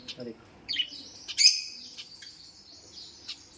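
Zebra finches chirping close by: several short, high, nasal peeps and calls, scattered irregularly over quiet background.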